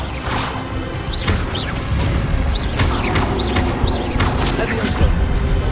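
Incendio fire spell cast in the video game Hogwarts Legacy, a run of whooshing bursts and crackling impacts over busy combat noise, loud and dense throughout.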